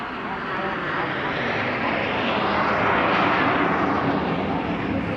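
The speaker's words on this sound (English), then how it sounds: "First up then, it's the Gnat pair." Pair of Folland Gnat jet trainers roaring overhead at the Eastbourne airshow, a loud continuous broadband jet rush that swells and holds throughout.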